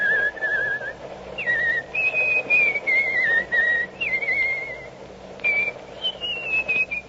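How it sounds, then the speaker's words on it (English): A man whistles a wandering, melodic tune aboard a train in a 1944 radio drama, the phrases clear and close over a low, steady rumble of the moving car. "started whistling and kept it up until it got on my nerves"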